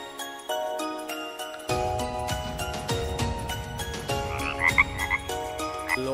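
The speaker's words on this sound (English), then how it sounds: "Frog." A frog croaks repeatedly over a bright, steady musical backing with chiming tones, all at a moderate, even level.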